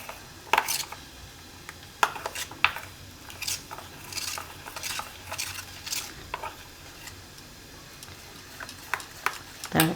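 Cold cocoa drink mixture being stirred by hand in a kitchen, a steady run of spoon scrapes and clinks against the container with occasional sharper taps, close and fairly quiet, no talking.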